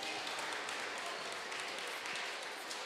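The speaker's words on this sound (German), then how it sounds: "Applaus da von Hannover Bank" Players and staff on the Hannover 96 bench applaud during a football match against Borussia Mönchengladbach, a faint, steady wash of clapping heard from a distance.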